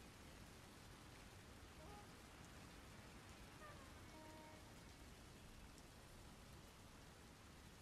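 Steady, faint rain falls in a video game, a soft even hiss of drops throughout with a few faint tonal blips from the game and a brief click at the very end.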